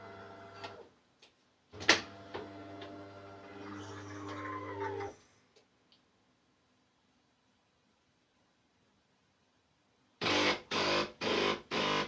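A De'Longhi ESAM 04.110 bean-to-cup coffee machine, just descaled, powers on with a hum and whirring, goes quiet, then rinses with several short, evenly spaced bursts of pumping and water flow.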